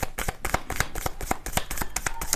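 Tarot cards shuffled for a Capricorn January reading, a dense run of quick riffling snaps and slaps repeating steadily throughout, close up with no voices.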